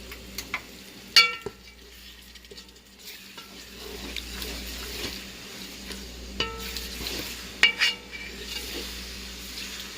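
Tomato paste stirred into spaghetti sauce in a pan, with a spoon scraping and clinking against the pot in irregular strokes over a low simmer, close and moderately loud, no talking.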